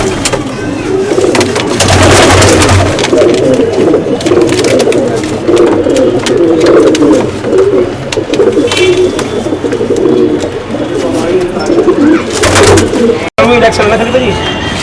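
Pigeons coo in a steady, throaty, close-up chorus at a Delhi pigeon loft, while people talk nearby and the occasional engine can be heard.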